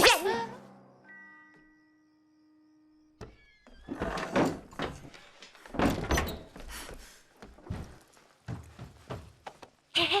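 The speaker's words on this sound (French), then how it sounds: "j'ouvre la porte" A door creaks open slowly with a drawn-out groan, then rattling and clattering movement follows in quick bursts.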